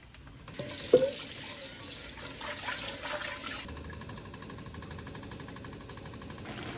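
Steady rush of tap water running into a sink while palm butter is rinsed through a cheap Dollar Tree strainer, with a brief clink near the start and a continuous hiss that carries on to the end.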